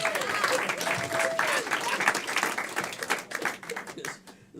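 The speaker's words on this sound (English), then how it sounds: "Clap for them, everyone." Audience applause with dense clapping throughout and a voice faintly audible beneath it, the clapping tapering off toward the end.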